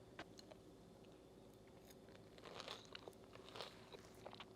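Crispy fried arancini filled with mushroom and goat cheese being bitten and chewed close up, with a few soft crunching bites that grow louder near the end, no talking.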